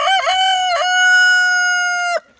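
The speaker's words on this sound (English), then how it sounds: "This new rooster crow voice." A young rooster crows once, close and loud, with an odd croaking, cracking voice that breaks at the start before holding a long tone and cutting off abruptly.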